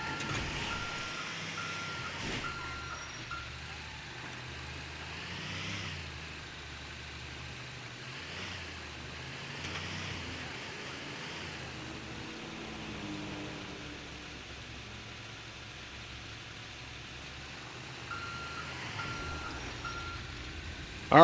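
A tow truck in GTA 5 reverses, sounding a steady run of evenly spaced electronic backup beeps over a constant engine hum, with no voices.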